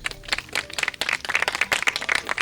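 Villagers clap in a busy, uneven patter of close hand claps that rises and thickens over a couple of seconds.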